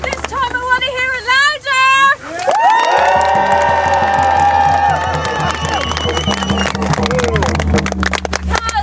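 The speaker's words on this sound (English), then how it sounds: "Because you are clapping for yourselves and congratulating yourselves." Crowd at the Tlachtga Samhain fire festival in 2015 bursts into loud, sustained cheering, whooping and clapping after an opening voice, the noise filling the space close and dense for several seconds.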